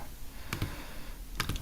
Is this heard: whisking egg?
no